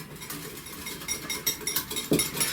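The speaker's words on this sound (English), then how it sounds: "grab a whisk and just start whisking this together" A whisk beating mayonnaise and Dijon mustard dressing with garlic, salt and pepper in a bowl, for a BBQ pork and rice salad. Quick, faint rhythmic clicking and scraping, with no talking.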